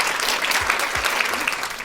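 An audience of volunteers at a Tallinn 2011 European Capital of Culture training session claps steadily, a dense, even wash of applause throughout.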